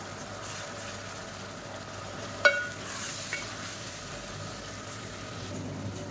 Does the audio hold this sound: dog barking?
no